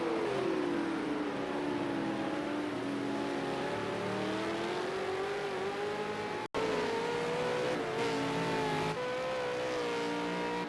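A V8 Supercar race car at Zhuhai International Circuit, engine droning steadily at high revs with pitch rising and falling through gear changes and corners, loud and continuous with a brief cut in the middle.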